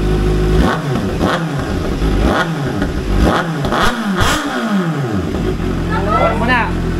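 A Kawasaki ZX6R fitted with a Boris Performance exhaust revs hard up close in a series of loud, rising blips and rough bursts before settling to a burbling idle, with a brief voice near the end.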